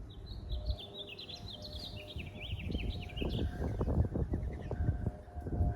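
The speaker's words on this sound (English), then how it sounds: "I sit back here, man, listen to the birds" Birds chirp and trill outdoors in a backyard, a fairly faint string of quick tweets over low rumbling background noise.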